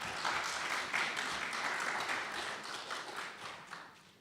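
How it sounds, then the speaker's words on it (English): Audience applause after panel presentations on Netanyahu's reelection, a steady dense wash of clapping hands that holds at an even level for several seconds with no voices over it. "Go ahead, clap."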